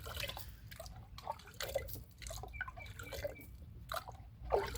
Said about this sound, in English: I can hear it gurgling from this pipe now.